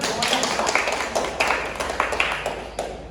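A classroom full of students clapping together, a steady patter of many hands lasting several seconds, fairly close and loud.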